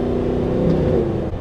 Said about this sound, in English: Hear that V8 engine, just intoxicating.